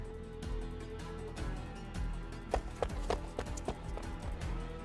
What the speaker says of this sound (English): The footstep sounds I keep hearing are them running around to talk in front of the camera.